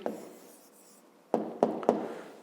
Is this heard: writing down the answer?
yes